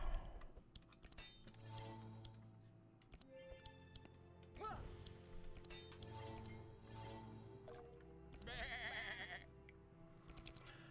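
Sheep bleating amid the clutter of a fantasy roguelike game's sound effects and music, with clinks and ticks layered over a steady bed of game audio.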